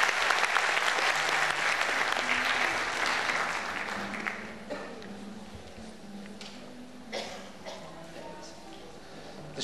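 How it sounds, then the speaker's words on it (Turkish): Loud audience applause at a Turkish classical music choir concert swells at first, then fades after about four seconds, leaving a voice speaking over a quieter room. "Buradan kuvvetli bir alkış Amir Ateş hocama istiyorum."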